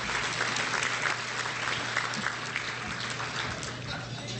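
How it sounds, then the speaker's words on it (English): Sustained applause from a large audience at a conference dinner, a dense, even clapping roar that holds steady throughout. "Let's give a big round of applause to this wonderful meal that we're eating tonight."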